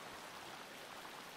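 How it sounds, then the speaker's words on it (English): Steady rainfall in the Luma Island video game, a dense, even hiss of drops heard alone at a constant low level without any voices. "It's raining, so okay."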